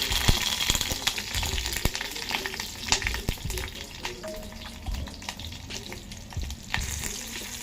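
Green chillies sizzle and crackle in a hot pan on a stove, a steady busy frying hiss with scattered sharp pops and occasional stirring scrapes, close and moderately loud with no voices.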